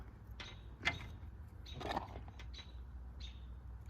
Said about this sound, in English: And I got so many birds around now.